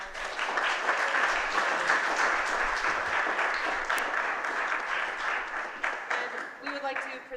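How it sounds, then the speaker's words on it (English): Audience applause fills the room after a talk, a dense, steady patter of many hands clapping close by for several seconds, thinning slightly toward the end. "Let's give her another round of applause."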